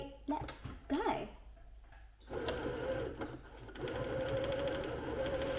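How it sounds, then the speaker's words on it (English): A sewing machine runs straight-line stitching on fabric for shirring, with a steady mechanical whir in two bursts after a short pause, while a person talks briefly at the start. "place your fabric into the machine, push your presser foot down, which is just here, and start sewing a straight line"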